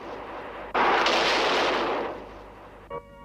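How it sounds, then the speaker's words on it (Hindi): A loud cannon blast erupts suddenly, a sustained roaring boom that holds for over a second before slowly fading, followed by a brief faint clank near the end. "और उन्हें तोपों के मुंह से बांधकर उड़ा दिया गया।"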